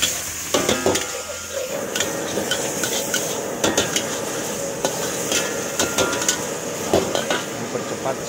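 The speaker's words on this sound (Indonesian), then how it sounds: "Kita tambahkan air sedikit." Vegetables stir-frying for nasi goreng after a splash of water, with steady sizzling and repeated scraping, clanking stirs of a utensil against the pan, close and busy throughout.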